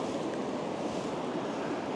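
A river flows in a steady, broad rushing wash, constant and fairly near, with no voices over it.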